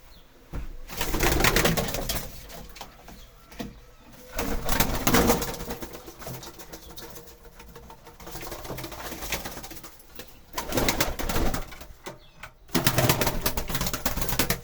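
Young white pigeons cooing in a loft, soft repeated coos and rustling close by, with occasional wing flutters and no talking.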